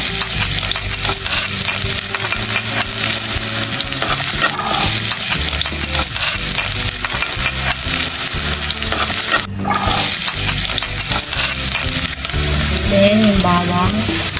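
Onions sauté in hot cooking oil in a pan while preparing stuffed milkfish, giving a loud, continuous close sizzle with stirring scrapes and a brief clatter partway through.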